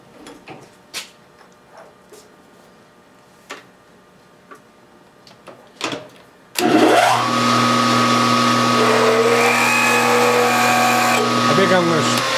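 A machine spins at high RPM while drilling a metal rod, starting abruptly after several light ticks and clicks and then running as a loud, steady whine with a constant tone.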